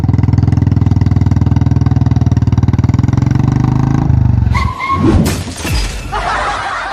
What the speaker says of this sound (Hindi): बड़ी खतरनाक बाइक है, वजन बहुत है इसमें तो